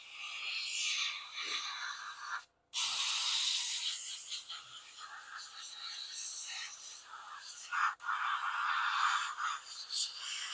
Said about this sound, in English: Let me spray this wing.